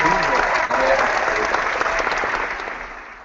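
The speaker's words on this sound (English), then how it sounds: "I don't know if you heard that cheer in the back" A crowd cheers and claps at the back of a room during a live health talk show, with loud, dense applause that stays steady and then tapers slightly. Some voices are mixed into the noise.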